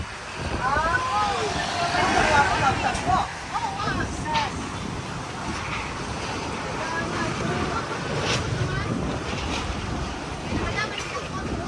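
Strong wind in bad weather roars steadily across the microphone, with rushing, surf-like noise throughout and voices talking underneath.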